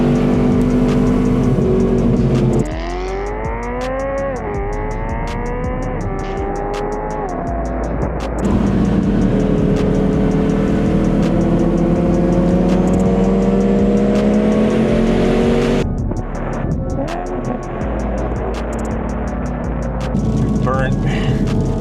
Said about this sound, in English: I can hear his turbo.